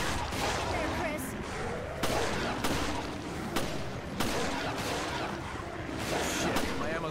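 Gunfire from Resident Evil Revelations, with sharp shots cracking out at irregular intervals over a dense, busy game soundscape while a voice talks over it.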